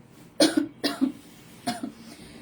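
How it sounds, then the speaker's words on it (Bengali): A person gives three short dry coughs, close and fairly loud, in quick succession with brief gaps. "ঘুমের মধ্যে কাশিটা খুব ডিস্টার্ব করে, শুকনা কাশি খুব বাজে"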